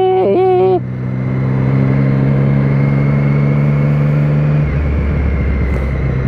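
A motorcycle accelerating loudly nearby, its engine tone climbing steadily before giving way to a rougher broadband roar, with a short wavering tone at the very start.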